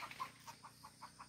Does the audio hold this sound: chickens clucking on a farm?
yes